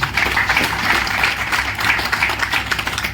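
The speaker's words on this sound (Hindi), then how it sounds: "एक बार जोरदार ताली इस मिशन के लिए।" An audience at an AWPL event gives a loud round of applause for a nationwide mission; thick, sustained clapping with slight swells in intensity runs throughout, with no speech over it.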